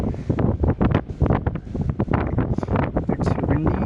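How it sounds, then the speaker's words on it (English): Strong wind blows outdoors in nature and buffets the microphone with loud, continuous rumbling gusts, and rustling is heard throughout. "It's windy."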